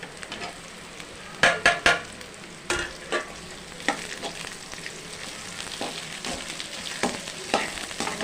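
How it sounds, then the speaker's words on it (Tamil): Steady sizzling of chopped ivy gourd frying in a pan, with a few sharper crackles and stirring scrapes, close up and fairly quiet, no talking. "கோவக்காயை போடுவோம்."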